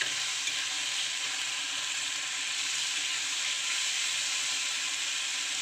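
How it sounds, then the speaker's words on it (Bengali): Spices fry steadily in hot oil for an egg kabab curry, a constant close sizzle with faint stirring beneath, no voices. "ভালো করে ভুনে নিতে হবে, ততক্ষণ পর্যন্ত নাড়াচাড়া করব যতক্ষণ না মশলার গা থেকে তেলটা ছেড়ে আসে"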